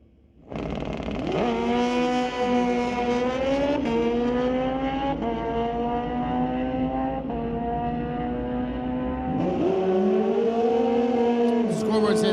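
Drag racing motorcycles, an 05 Yamaha and a ZX14, launching at an NHRA Canadian SPORTSnationals event; loud high-revving engines rise and hold a steady scream, then shift up near the end, with no speech over them.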